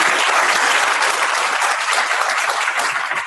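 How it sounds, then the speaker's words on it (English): Loud, dense applause fills a graduate school orientation as the audience claps for the presenters, a sustained wash of many hands with no gaps. "Let's give all our presenters another round of applause."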